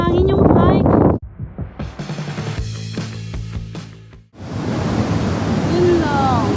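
Wind gusts roar across the microphone on a mountain hiking trail, loud broadband rushing that cuts out briefly and returns, with a voice speaking at the start.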